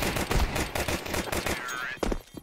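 Rapid bursts of gunfire in a first-person shooter game, close and loud, sounding as a quick rattle of shots over busy game noise.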